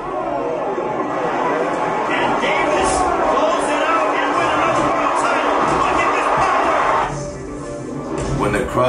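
A boxing arena crowd roars and cheers continuously at a fight, a dense, loud wall of voices that dips briefly near the end before swelling again.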